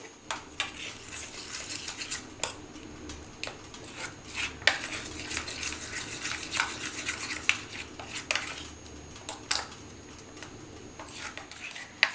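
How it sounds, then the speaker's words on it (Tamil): Rice porridge is stirred into gram flour in a bowl, giving repeated scraping and clinking of a utensil against the bowl in uneven strokes, close and fairly quiet with no voices. "இப்போ எடுத்து வச்சுருக்க கடலை மாவு கூட கஞ்சியை கொஞ்சம் கொஞ்சமாக ஆட் பண்ணி நல்லா மிக்ஸ் பண்ணிக்கணும்"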